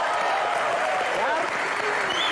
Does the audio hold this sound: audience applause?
yes